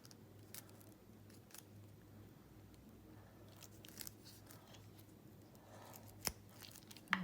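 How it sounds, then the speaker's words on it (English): Blunt snips cutting the packaging of airsoft and RC battery connectors, a few faint, sharp clicks toward the end against a quiet background. "There we go. Bit blunt, these snips guys."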